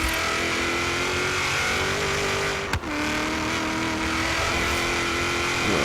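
A 2000 Ford Mustang Cobra R in Forza Horizon 3 holds a loud, steady engine roar with sustained revving, with one brief dip near the middle as it shifts, then climbs on strongly.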